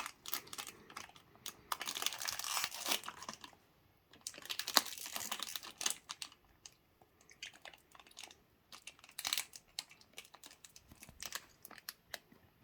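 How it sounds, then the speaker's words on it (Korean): Crinkly plastic snack wrapper on a Choco Pie rustles and tears in bursts, with pauses between handling sounds, close and fairly quiet. "혼자서 한번 종이 비닐을 뜯겠습니다"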